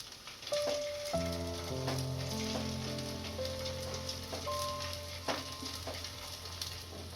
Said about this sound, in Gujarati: આને હવે તળી લેશું.